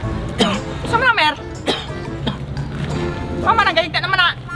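Several short coughs break up ongoing talk, with voices speaking before and after each burst at close range.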